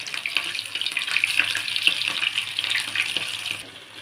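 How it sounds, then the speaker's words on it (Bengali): Food frying in a pan hisses with a steady bright sizzle that runs loud and close throughout, alone with no voices. "দিয়ে এটাকে আমি ভাজতে থাকবো।"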